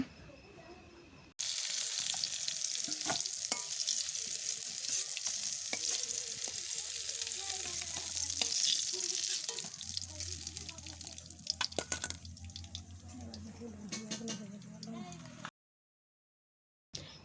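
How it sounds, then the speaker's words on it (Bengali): Eggplant frying in a wok makes a dense, close sizzle that lasts most of the time, with stirring scrapes and clatters near the end before it cuts to silence. "3 থেকে 4 মিনিট সময় নিয়ে আমি বেগুন ভেজে নিয়েছি।"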